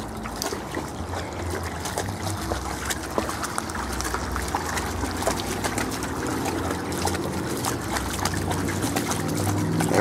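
Dogs, a Malamute and a Husky, splashing around in water at a drain channel on a walk, with continuous splashing and trickling water close by and no talk.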